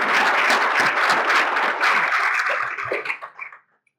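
Audience applause fills a room at a Law Day lunch, a steady dense round of clapping that thins out and stops near the end.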